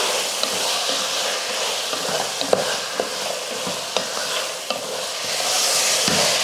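Spices with salt and turmeric sizzle and fry in a pan for a chicken curry while a utensil scrapes and taps now and then, steady frying hiss throughout, close up.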